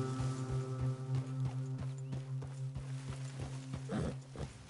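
Horse hooves clip-clop at a steady walking pace in the Red Dead Redemption video game, a regular rhythm of moderately loud, close thuds over a low droning tone.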